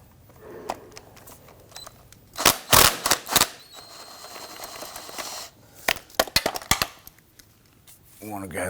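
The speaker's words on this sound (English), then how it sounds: "We want to go ahead and loosen and remove these two bolts." Metallic clicks and clanks from a ratchet with a swivel socket loosening two 12mm bolts near the intake manifold of a 2011-2015 Kia Sorento during starter replacement, coming in quick bursts with quiet gaps between them.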